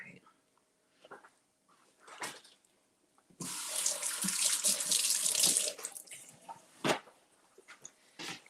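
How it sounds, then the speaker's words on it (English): Tap water runs over blueberries and raspberries at a kitchen sink for a few seconds, a close rushing stream bracketed by handling knocks and clatter, with some nearby talk. "Let's get a few and rinse them off."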